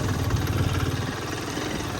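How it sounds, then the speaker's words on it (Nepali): A motorcycle engine runs continuously on a rough road, a steady mid-low rumble with fast rhythmic rattling pulses that ease slightly toward the end. "मेरो बाइक खटार आवाज आउँछ थालिसक्यो"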